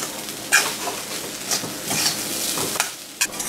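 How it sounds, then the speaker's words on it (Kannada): Raw banana palya with salt, curry leaves and grated coconut is stirred in a pan over medium-low heat, giving a steady sizzle broken by sharp scraping strokes of the spoon. "ಹಾಕಿಬಿಟ್ಟು ಮಿಕ್ಸ್ ಮಾಡಿ"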